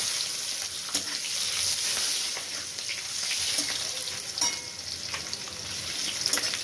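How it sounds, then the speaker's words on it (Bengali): Onions fry in oil in a pan with a steady, close hiss, broken by occasional sharp scrapes and taps from a stirring spoon. "পেঁয়াজ দিয়ে আমি নাড়ছি। পেঁয়াজটা একটু ভাজা ভাজা হয়ে যায়"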